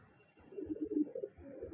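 Madrasi and Giribaj pigeons, male and female, give soft throaty coos close by, a short murmuring run of low calls with faint shuffling underneath.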